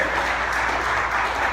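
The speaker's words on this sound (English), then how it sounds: "Let's give each other a round of applause for that." A church congregation applauds, a dense, even wash of clapping sustained without pause.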